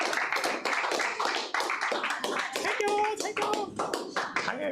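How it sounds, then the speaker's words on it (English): A crowd at an academy event gives a round of applause, brisk overlapping hand claps rising and holding, with voices and a cheer mixed in. "can you all celebrate with a mighty round of applause"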